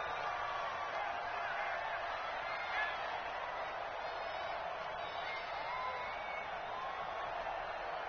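Football stadium crowd during a game, a broad steady roar of cheering voices on a big fourth-quarter third down, sustained and fairly distant with no clear talk on top.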